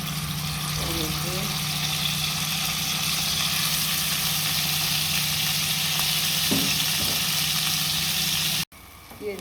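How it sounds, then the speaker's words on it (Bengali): Onions fry in hot oil with a steady, continuous sizzle and a faint low hum in the background. The sizzle holds at an even level for about nine seconds, then cuts off abruptly. "তেল গরম হয়ে গেছে, পেঁয়াজ দিয়ে দেবো।"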